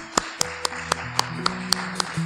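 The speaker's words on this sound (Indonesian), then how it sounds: "Berikan tepuk tangan." During a church worship service at GBI Jemaat Sion Bangil, a congregation claps in a steady, even beat of crisp hand claps over sustained keyboard tones.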